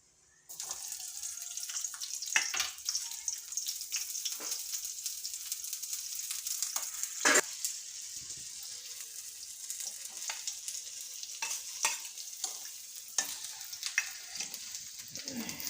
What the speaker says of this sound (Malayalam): അപ്പൊ നമുക്ക് ആദ്യം ഉള്ളി മൂപ്പിച്ചെടുക്കാം